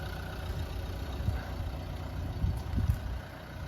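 A diesel car with a 1.5 K9K engine idles with a low, steady rumble, fairly quiet and constant, with a few slightly louder throbs.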